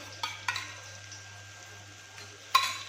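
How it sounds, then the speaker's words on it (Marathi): Two spoonfuls of yogurt stirred into tomatoes and spices in a pot for paneer biryani, heard as a few quiet spoon scrapes and light clinks against the vessel in an otherwise hushed kitchen. "मिक्स करून घेते याला समजा"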